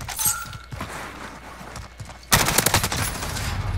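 Gunfire in Call of Duty: Modern Warfare starts with scattered sharp shots, then breaks into a loud, rapid burst of automatic fire that keeps going to the end.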